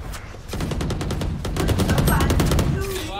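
Rapid automatic gunfire from the video game Valorant, a dense burst of loud repeated shots running for about three seconds.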